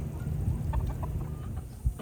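Older chickens give soft, scattered clucks at close range over a quiet farmyard background, with one slightly louder cluck near the end.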